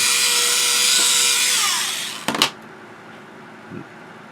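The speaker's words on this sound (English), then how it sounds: "if it seems like some portholes are blocked, just pull out the little handy drill" A small handheld drill clearing blocked portholes in a fiber optic build, a steady high whine that spins down and stops, followed by a few sharp clicks and handling knocks.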